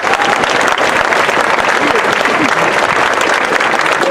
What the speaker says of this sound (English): please give her a hand